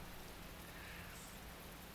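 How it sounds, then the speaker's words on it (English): Rain falls relentlessly on a night-time jungle in the visual novel The Fruit of Grisaia, a soft, even, continuous hiss that stays faint and unchanging throughout. "The rain had been falling for 2 days straight, leaving the ground swampy as a paddy field."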